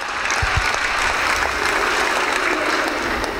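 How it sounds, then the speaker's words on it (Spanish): Steady audience applause at a school gathering on healthy schools, a continuous wash of many hands clapping with a few louder claps up close. "Fuertes aplausos también."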